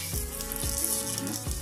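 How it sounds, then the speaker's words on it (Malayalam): Mustard seeds spluttering in hot oil under a cup used as a lid, a steady sizzle with a few dull pops and knocks spread across the short stretch, nearby and moderately loud. "പൊട്ടട്ട കടുക്"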